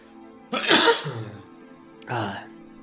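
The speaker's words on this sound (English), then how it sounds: "Ah, big sneeze." One explosive sneeze bursts out close and loud, followed by a short sniff or throat sound and a second smaller burst, over a low steady background hum.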